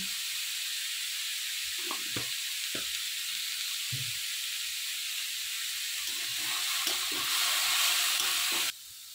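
Salted grated carrots for gajar halwa cook in a pan with a steady, close sizzling hiss, broken by a few soft scrapes and taps from stirring, the frying growing a little louder toward the end.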